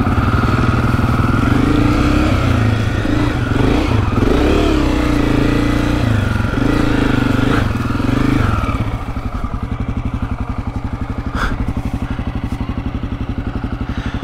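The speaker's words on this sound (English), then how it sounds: "Give it a little bit of gas to get that front wheel over, and then just let the back bounce over." A Honda CRF250F dirt bike idles and putters loudly up close on a trail as it eases over a log, its steady engine chug dropping to a lower idle near the end.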